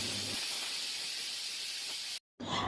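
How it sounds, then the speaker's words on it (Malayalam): A pressure cooker cooking beef lets out a steady, loud, breathy hiss of escaping steam that runs unbroken for about two seconds, cuts off abruptly, then briefly resumes. "ഒരു 6 വിസിൽ വരെ കുക്കറിനകത്തിട്ട് വേവിക്കാൻ വേണ്ടിയിട്ട് വെച്ചു."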